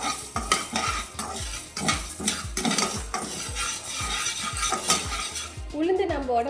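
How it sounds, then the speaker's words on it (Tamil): Black urad dal is roasted in a pan and stirred steadily with a metal spoon. The scrapes and clinks come in a brisk, even rhythm over a continuous dry sizzle, up close. "நம்ம இந்த கருப்பு உளுந்தை இதில் ஆட் பண்ணிக்கலாம். இதை நல்லா வறுத்துக்கலாம்."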